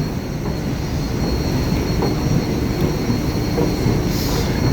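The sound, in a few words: elevated train (skytrain) to airport Terminal 3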